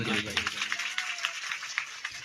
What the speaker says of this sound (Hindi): जरा हमारे संगीत वालों को तालियां मार दो जरा